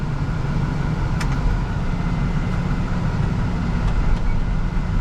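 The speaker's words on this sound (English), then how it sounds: "Turn this pump back on." The hydraulic pump on a snowplow dump truck runs in a steady, loud low drone, with no speech over it and no break in the sound.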